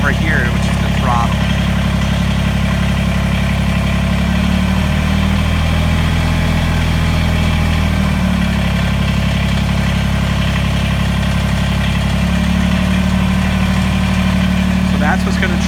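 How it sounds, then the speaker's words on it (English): A Kubota BX23S tractor engine idles while warming up, a loud steady low rumble close by with a slight rise and fall in the middle. "I'm letting it idle here for a few minutes because I don't want to just rev it up until the engine is warm"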